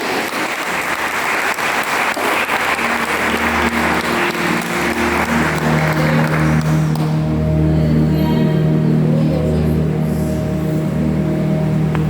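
A church congregation claps together in a sustained burst of applause that gradually gives way to a sustained tonal drone.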